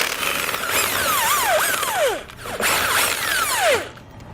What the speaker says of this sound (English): So we're going to grab an 18mm socket and we'll pull those out.